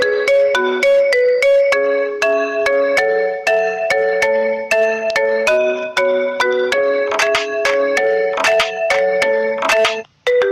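A melodic mobile phone ringtone from a ringtone app plays continuously, bright plucked synth notes in a steady repeating tune, loud and close before cutting off abruptly near the end.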